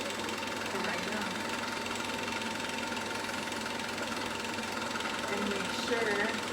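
A sewing machine running steadily while stitching a fabric headwrap, a continuous close mechanical hum and whir under a muffled, noisy background.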